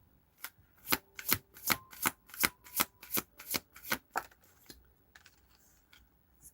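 Tarot cards are shuffled in a quick run of about a dozen crisp riffling snaps at a steady rhythm, close and fairly quiet, trailing off into a few softer shuffles.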